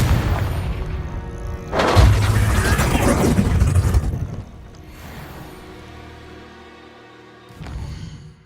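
The Confringo blasting spell explodes in Hogwarts Legacy: a heavy, booming burst lasting a couple of seconds, then a lower rumble and a second, smaller thump near the end.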